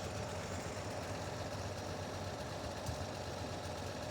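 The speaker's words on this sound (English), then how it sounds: "Engine's running really nice and smooth." A 1958 Chevrolet Apache pickup truck engine idles steadily under the open hood, a continuous even rumble with a faint rhythmic pulse, close and alone with no talking.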